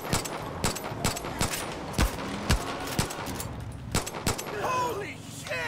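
Gunfire in the video game Far Cry 5: a string of sharp, loud shots at irregular intervals, some in quick pairs, against a busy game background with a brief tonal effect near the end.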